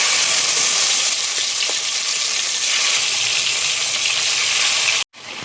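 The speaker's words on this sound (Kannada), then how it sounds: "ಇವಾಗ ಒಂದೊಂದೇ ಪೀಸ್ ಚಿಕನನ್ನು ಫ್ರೈ ಮಾಡಿ." Chicken pieces frying in hot oil for a mint pepper chicken fry, giving a loud, steady close-up sizzle that is briefly cut by a short gap near the end, with no talking.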